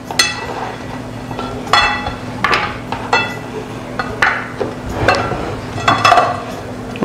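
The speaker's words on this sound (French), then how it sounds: "nous allons râper notre gingembre" Fresh ginger grated by hand, a series of close, uneven scraping strokes with short pauses between them over a faint steady hum.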